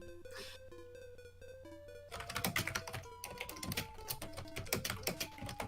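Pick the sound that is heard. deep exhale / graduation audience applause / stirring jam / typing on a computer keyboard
typing on a computer keyboard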